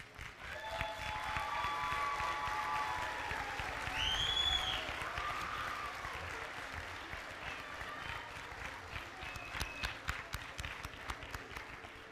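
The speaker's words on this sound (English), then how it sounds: "I would like for the graduates to stand and applaud all those who supported them" A crowd at a career college graduation ceremony claps steadily in a sustained burst of applause, fairly loud and close, with a few faint voices and a whistle rising over it.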